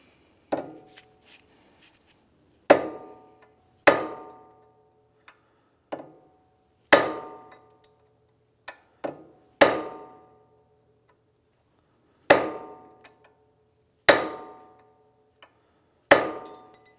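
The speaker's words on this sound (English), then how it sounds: "We're just going to use a cold chisel punch here. Punch down that center." Hammer blows drive a cold chisel punch to stake the axle nut on a 2015-2019 Hyundai Sonata front hub, about ten sharp metallic strikes with ringing decays, spaced irregularly and close by, no talking.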